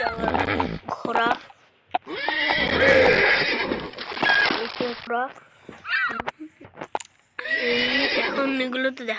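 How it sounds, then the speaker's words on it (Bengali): A horse in the video game Mini Block Craft 3D neighs and whinnies loudly in several bursts, with short pauses and quieter clip-clop-like bits between the calls. "ঘোড়া,"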